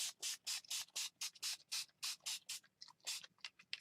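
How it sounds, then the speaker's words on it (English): Rapid bursts of aerosol spray onto folded paper, about a dozen short hissing puffs in a quick uneven rhythm, close and fairly soft. "and I'm going to spray it"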